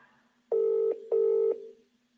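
Telephone ringback tone for a call to a competition winner: two long, even electronic rings separated by a short pause, clear and alone against a quiet line hum.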